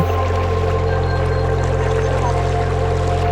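A hillside stream in the Dooars tea country, in a green setting among hills, runs over small stones in clear cold water, giving a loud, steady rushing flow with a low constant hum beneath it.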